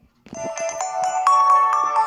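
A smartwatch alarm rings close and loud, a bright electronic tone sounding in quick repeating pulses that step into a steadier ringing melody.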